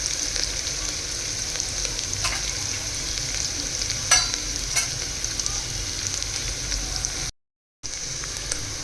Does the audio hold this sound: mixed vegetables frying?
yes